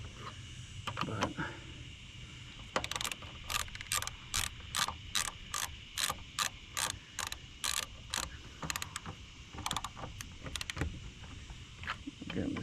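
Close, crisp bursts of rapid ratchet clicking, about a dozen in a steady rhythm with short pauses between, as lug nuts are tightened on a Chevy Silverado truck while someone speaks intermittently.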